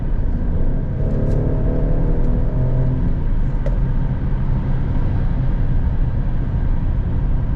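A tuned Lamborghini Huracán...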